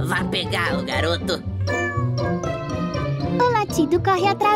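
Cat meows repeated over a busy mix of cartoon-style music and a voice, with bright tinkling sounds throughout.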